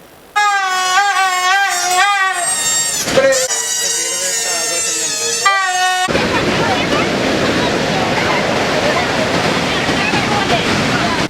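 Waves crash and roar along a crowded beach on Eid, after a burst of tonal horn-like sounds, the surf filling the second half loudly and continuously.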